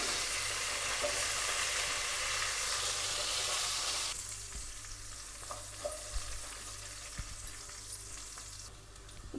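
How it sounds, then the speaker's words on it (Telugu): Tempering of curry leaves, green chillies and onions fries in a pan with a loud, steady sizzle that eases after a few seconds into quieter frying, broken by occasional scraping from stirring. "పోపు వేగిపోయింది కదా"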